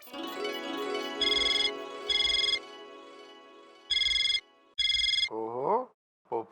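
A phone call's ringing tone repeats in four evenly spaced, bright electronic bursts over a sustained musical background, loud and close, before a voice briefly starts speaking.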